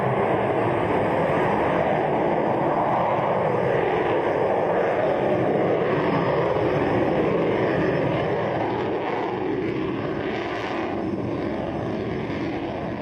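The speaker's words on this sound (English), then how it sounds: "Electron has lifted off from the pad at Launch Complex 1" Rocket Lab Electron rocket engines thundering at liftoff from Launch Complex 1 in New Zealand, a loud, continuous broadband roar that holds steady for the whole stretch and eases slightly toward the end.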